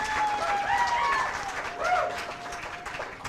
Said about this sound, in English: It's a great cheering section.